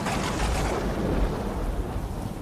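Low rumbling thunder rolls beneath a steady hiss of heavy rain, loud and continuous for a couple of seconds before easing slightly, as a rain sound effect with no speech over it.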